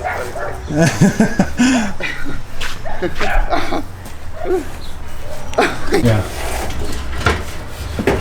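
Dog barking in a garage during work on a BMW F32 435i, loud yips and barks mixed with clatter and people talking nearby.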